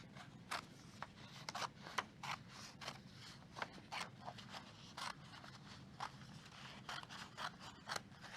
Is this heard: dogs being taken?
no